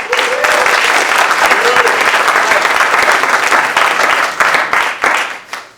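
An audience at a Rev. Martin Luther King tribute concert gives loud, sustained applause for a young trumpet player, a dense roar of clapping that holds strong before thinning and fading at the end.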